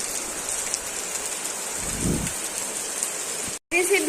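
Steady rain falls outside an open window, spraying through it as a constant close hiss with a brief low rumble midway, and voices talk faintly beneath.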